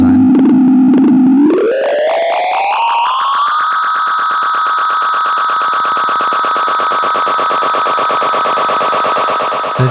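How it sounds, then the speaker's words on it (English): A delay pedal's repeats feed back into a loud, continuous self-oscillating tone that glides sharply upward, then settles into a dense, steady, distorted drone of stacked echoes, alone with no voices. "if you let it run for long enough, it just becomes chaos."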